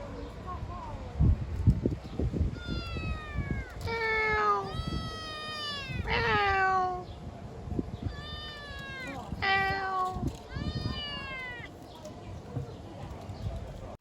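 Several cats meow repeatedly, long rising and falling cries close by, over background clatter and a voice talking, in Tirana, Albania.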